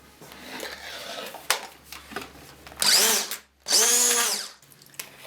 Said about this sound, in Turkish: Şimdi mikserle tekrar çırpalım.